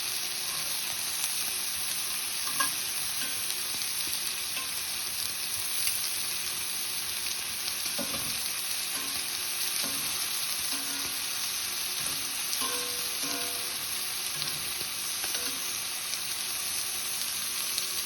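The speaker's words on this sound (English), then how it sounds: "pan hot, so it immediately started frying the outside." Steady, dense sizzling of elk tongue frying in a hot cast iron pan, with faint clinks and stirring noises scattered throughout.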